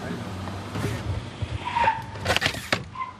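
A stunt car on a movie set peels out, with tire squeal and skidding rising amid engine noise, under background crowd talk and clatter on set.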